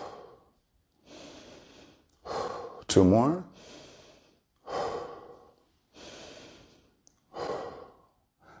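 Deep, slow recovery breaths during a meditational fitness workout, about six long inhales and exhales with gasping sighs, loud and close, separated by short pauses, with a brief spoken count in between.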